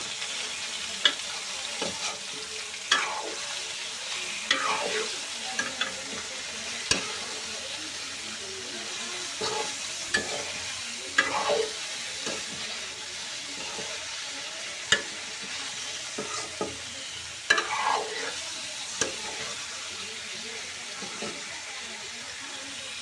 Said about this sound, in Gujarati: આપણે નાખી દઈશું આપણું પનીર. અને હવે આપણે પનીરને જે હલાવી નાખશું.